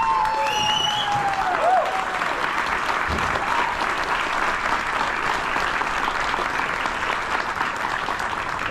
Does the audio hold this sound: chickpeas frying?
no